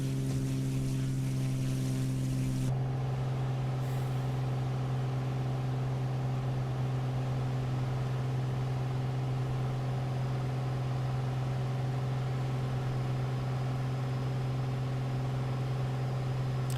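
An aircraft engine in Microsoft Flight Simulator drones at a steady, even pitch for the whole stretch, shifting tone slightly early on and then holding a constant hum with no talk.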